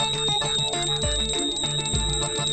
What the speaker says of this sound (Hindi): इससे पहले कि अम्मा जी घंटी बजा बजा के हमारा कान बहरा कर दे